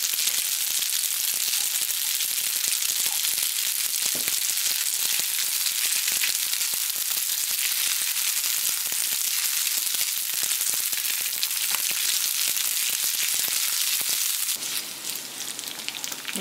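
Spaghetti sizzles loudly and continuously in a hot pan as pesto is stirred in, a bright frying hiss with crackles that softens slightly near the end.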